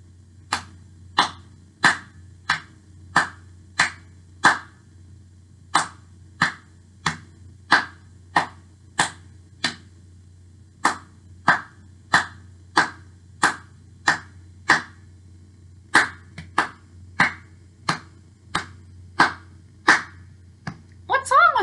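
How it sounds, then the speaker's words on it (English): Hands clap out the rhythm of the children's song I Have Feet That Tap, Tap, Tap in a series of sharp, close, evenly spaced claps, grouped into phrases with short pauses between them, with no talking. "If you already know the song, sing along while I clap."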